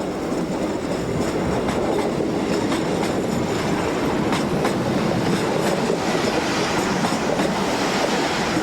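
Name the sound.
Portuguese Railways Class 1200 train running on rails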